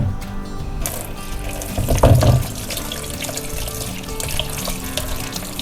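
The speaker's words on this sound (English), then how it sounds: "now we will get them out and then wash it one more time" Sweet potatoes rinsed under a running kitchen tap after soaking in baking soda water, a steady close splash and trickle into the sink with a louder gush midway.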